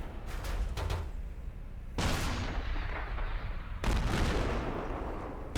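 Three heavy tank cannon shots from the M44 in a video game boom loudly at roughly two-second intervals, each blast followed by a long rumbling decay, with no talking.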